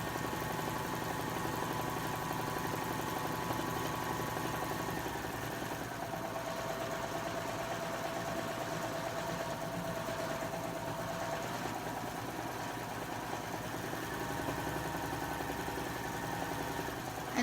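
Baby Lock serger fitted with a curve foot, stitching around a curved edge in one steady, continuous mechanical whir that holds at an even level throughout.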